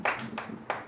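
A church congregation claps at a pastor's sermon, giving three distinct loud group claps, close and sharp, spaced roughly a third of a second apart.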